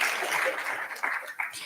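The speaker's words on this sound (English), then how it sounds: "We can clap if we want to" Audience clapping at a nursing honor society induction ceremony welcoming new inductees, a steady wash of hand claps that holds evenly and thins slightly toward the end.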